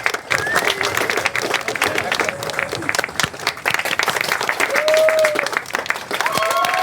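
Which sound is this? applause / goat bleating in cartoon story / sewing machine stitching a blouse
applause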